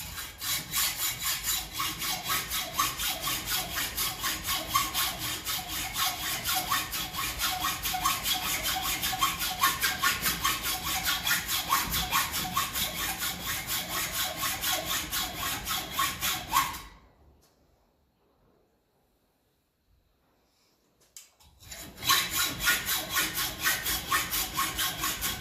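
A saw cuts through a threaded rod on a 1954 Ferguson TEF 20 diesel tractor part with fast, even, rasping strokes. After a long run it stops for about four seconds of near silence, then starts again.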